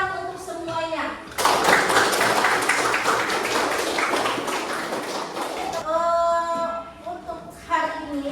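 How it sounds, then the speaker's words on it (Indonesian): Children in a classroom clap together at the end of a lesson, a burst of dense applause lasting about four seconds, with a teacher talking before and after. "Tepuk tangan untuk semuanya."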